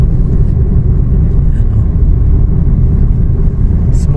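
Steady low engine and road rumble inside a Suzuki Dzire GL manual-transmission sedan while driving, a continuous, fairly loud hum with no talking.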